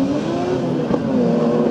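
An autocross race car in the special touring class over 1800 cc at an October event in Uelzen, its engine droning loudly and steadily at high revs, close and unbroken for the whole short stretch.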